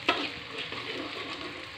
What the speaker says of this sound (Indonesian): Sekarang kita bikin bawang gorengnya ya teman-teman.